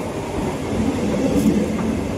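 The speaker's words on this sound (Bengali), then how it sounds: "রথযাত্রা ট্রেন ঢুকে গেছে" Passenger train bound for Bangaon station rolling along the rails, a steady low rumble with faint wheel clatter, continuous and close throughout with no talking.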